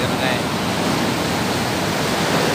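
Broad, steady roar of ocean waves breaking on a wide, clean sandy beach at Indrayanti at sunset, loud and close with no distinct pauses.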